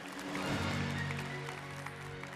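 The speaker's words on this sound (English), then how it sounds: "Ladies and gentlemen, please, a round of applause for our first speaker of the day." Conference audience applauding the first keynote speaker at an education technology event in Armenia, a dense, even wash of clapping over a low hum of background tones.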